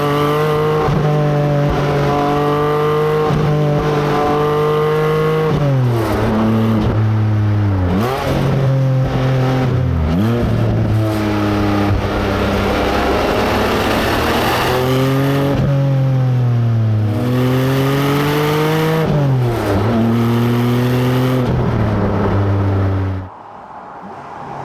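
A Porsche 718 Cayman GT4 engine revs hard through repeated gear changes on a B-road, rising and dropping in pitch, loud and close, before cutting off at the end.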